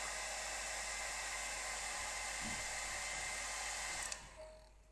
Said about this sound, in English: Let me get the hairdryer on that little pillar box